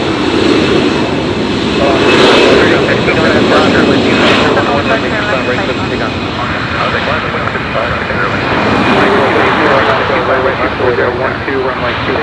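Jet airliners rumble loudly and continuously at Los Angeles International Airport, a broad roar of engines that swells and fades, with radio chatter from air traffic control running over it.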